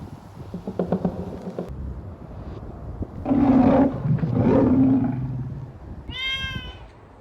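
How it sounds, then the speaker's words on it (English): A lion roars in a video game, with deep, loud growling bursts in the middle, an earlier rumbling growl and a short high cry near the end. Nobody speaks. "Holy moly, he has a lion."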